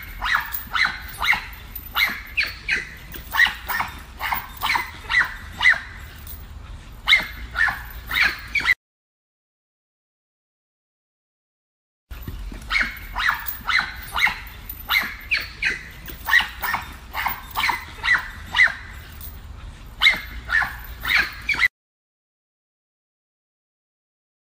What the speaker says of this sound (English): there's a yellow pit bull be trying to attack the screen. That's his mama right there barking.